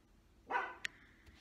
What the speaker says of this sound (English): sometimes you'll hear him in my videos, so I do apologize that he's barking